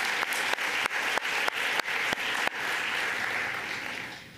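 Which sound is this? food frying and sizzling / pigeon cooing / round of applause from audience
round of applause from audience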